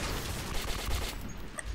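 Gunfire in the video game Metro 2033, a short burst of rapid shots with rattling impacts, loud and close, ending with a few clicking blips.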